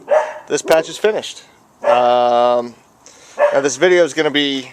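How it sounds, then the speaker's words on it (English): Dogs bark in short bursts near a garage workshop during rust repair on a 1973-87 Chevrolet C10 fender, heard faintly behind someone talking close to the microphone. "Sorry about the dogs barking."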